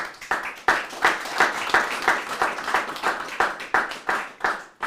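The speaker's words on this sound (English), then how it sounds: "let's give the Lord a round of applause" A church congregation gives a quick round of applause during a sermon, a brisk, moderately loud burst of rhythmic hand clapping with no voices over it.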